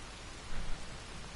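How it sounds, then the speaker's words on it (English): Rain falls steadily in the Red Dead Redemption 2 game world, an even hiss with a couple of soft low thumps partway through. "Now it's raining."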